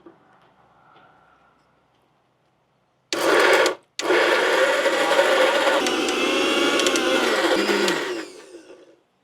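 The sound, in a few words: mixer grinder grinding green gram rotti batter ingredients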